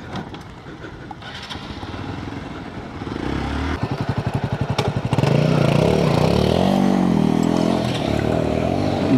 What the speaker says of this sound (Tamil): இந்த வண்டி என்னன்னு தெரியல, பயங்கரமாக ஆஃப் ஆகுது.